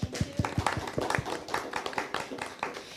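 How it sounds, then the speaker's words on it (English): A small group claps unevenly, sharp individual claps in a loose rhythm, fairly quiet and close. "Let's give a round of applause to all of our speakers."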